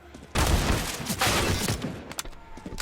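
Gunfire in a professional Counter-Strike match on the Train map, including a Krieg rifle, a sudden loud volley of overlapping shots followed by further bursts and scattered single cracks, with faint commentary underneath.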